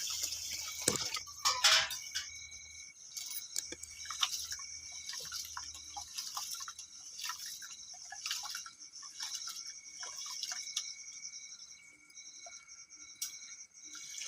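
Rice is washed by hand in water, giving faint, close splashes and drips with scattered small sloshes and a louder swirl near the start.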